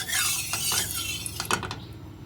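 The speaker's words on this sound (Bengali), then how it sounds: "এবার আমি তেলটাকে খুঁটি দিয়ে একটু কড়ার গায়ে লাগিয়ে দেবো" A spatula or spoon scrapes and clinks against the sides of a kadai, spreading hot oil before prawns go in for a Bengali malai curry, with soft metallic scrapes and a few sharper taps close up.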